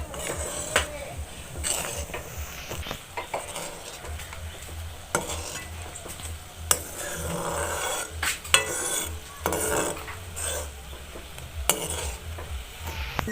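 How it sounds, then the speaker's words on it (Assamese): A spoon stirs a sugary jelly mixture made from tenga mora fruit in a pot, scraping and clinking against the metal in an irregular rhythm over a soft bubbling sizzle, close and moderately loud. "এনেকৈ লৰাই থাকিম মই।"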